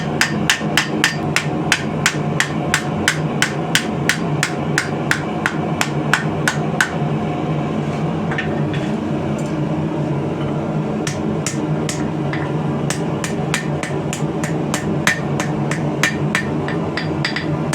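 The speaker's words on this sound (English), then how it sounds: "We're just using our rawhide mallet here." A rawhide mallet strikes a forged truck-spring Bowie knife blade in fast, even blows. The loud, close hammering pauses for a few seconds, then resumes in another quick run.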